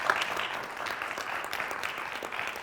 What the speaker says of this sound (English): Did you notice that I didn't even have to ask for the applause?